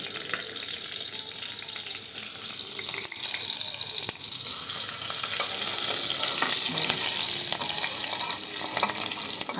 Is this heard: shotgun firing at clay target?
no